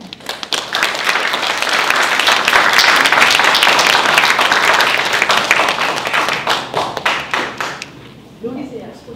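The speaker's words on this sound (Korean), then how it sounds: "이정용 시인님 나오실 때 여러분 큰 박수로" Loud applause from a recital audience welcoming a poet at a soprano concert swells into dense, continuous clapping, then thins into a few separate claps before fading.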